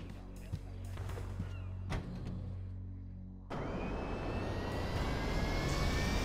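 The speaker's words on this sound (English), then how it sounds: "I'm just gonna drive there in this fucking plane." Airplane engine in Grand Theft Auto V, a steady low drone that surges into a louder, brighter jet-like roar partway through, the plane rolling along without lifting off; no one speaks.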